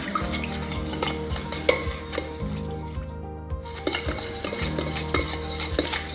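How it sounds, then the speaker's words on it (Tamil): Butter whisked by hand with an ordinary wire whisk in a bowl, rapid rhythmic clinking and scraping strokes against the bowl in close, busy bursts, with one brief pause midway and no talking. "இந்த மாதிரி நார்மல் விஸ்க் எல்லார் வீட்லேயும் இருக்கு இல்லையா, அதை வச்சு நல்லா வந்து இந்த பட்டரை வந்து பெண்ட் பண்ணிக்கோங்க"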